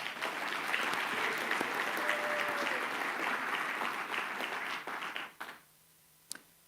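Dense applause from an awards ceremony audience honoring students, steady and full for about five seconds before cutting off abruptly, with a few stray claps after.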